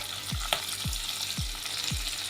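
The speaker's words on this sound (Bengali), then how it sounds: "এবার দিয়ে দেবো একটা পেঁয়াজ" Onion fries in a pan with a constant close sizzle. A utensil scrapes through it four times at an even rhythm, and a brief clink comes early on.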